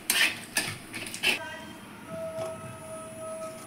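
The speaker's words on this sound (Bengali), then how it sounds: "তেজপাতা, একটা শুকনো লঙ্কা, দুটো এলাচ আর দারচিনি দিয়ে ভালো করে একটু নাড়িয়ে নিতে হবে।" Whole spices, bay leaf, a dry chili, cardamom and cinnamon, stirred in a pan with a few sharp clinks of a utensil against metal, then a quieter stretch with a faint tonal ring.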